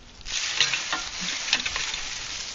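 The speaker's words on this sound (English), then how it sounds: "You can hear them hit the rake." Rocks hit a garden rake as it is dragged and brushed over the ground, giving a steady gritty scraping hiss with a few small clicks and knocks.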